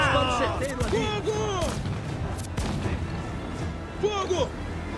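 Ship cannons fire a broadside in the pirate game Assassin's Creed: Black Flag, heavy booms cracking out in a ragged volley beneath loud shouted commands and crew voices.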